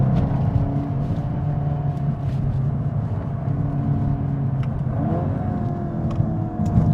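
A VW Golf GTI Clubsport 45 edition engine pulls hard under acceleration from inside the cabin, a loud steady rumbling drone with rising pitch sweeps as it climbs through gears.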